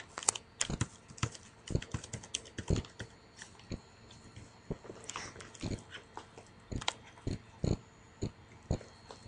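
Someone types on a computer keyboard, with quick, irregular clusters of crisp key clicks close by and brief gaps between the bursts, heard alone without talk.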